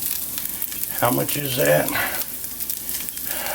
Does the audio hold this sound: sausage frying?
yes